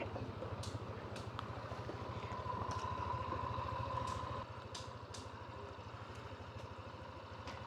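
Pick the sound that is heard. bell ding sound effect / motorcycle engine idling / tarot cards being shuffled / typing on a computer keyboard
motorcycle engine idling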